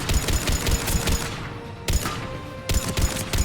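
Rapid bursts of heavy mounted-gun fire in the Mass Effect 3 video game, several dense rattling volleys separated by brief pauses, loud and close with no talk.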